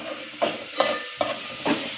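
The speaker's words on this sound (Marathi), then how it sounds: "आणि मम्मी आता फोडणी घालते" Hot oil crackles and sizzles in a pan as tempering is added to chicken, with scraping stirs in four bursts roughly every half second to second; no voices.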